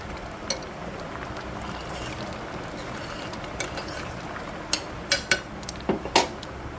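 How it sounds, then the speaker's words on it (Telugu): Fenugreek and mustard seeds frying in a pan: a steady low sizzle with scattered sharp pops that grow more frequent toward the end. "మెంతులు ఆవాలు వేగుతున్నాయండి"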